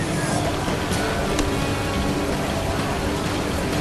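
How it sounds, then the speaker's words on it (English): Steady, heavy rain in the video game Ancestors Legacy pours without letup, a dense hiss of drops with a few sharper spatters, loud and close. "It stopped raining!"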